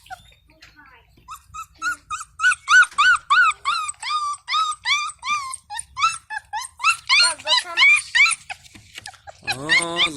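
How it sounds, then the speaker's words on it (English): Young puppies whimper and yip in a rapid series of high, rising cries that stretch into little howls, continuing close and steady, with a brief voice-like sound near the end. "I'm showing them how these pretty babies howling."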